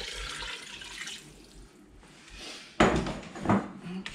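Four cups of water splash and gurgle as they are poured into an Instant Pot, a soft steady trickle rising into a louder burst of pouring near the end.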